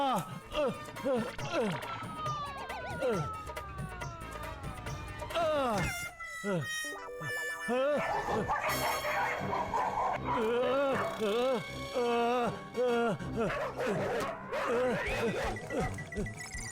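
Cartoon dogs bark and yip in short bursts, mixed with frequent talking and background music.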